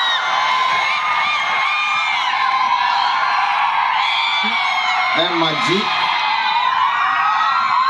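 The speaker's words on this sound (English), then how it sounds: "So much of applause for vice principal, sir." Medical college students cheer and whoop steadily for their vice principal in a hall, a dense continuous crowd noise with someone speaking briefly over it.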